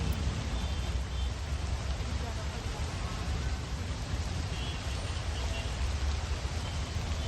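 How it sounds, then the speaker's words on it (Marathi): Heavy monsoon downpour in Pune: a dense, unbroken hiss of rain at constant loudness throughout, with no distinct drops or other sounds standing out. "मुसळधार पाऊस पुण्यात"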